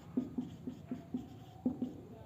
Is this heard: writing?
yes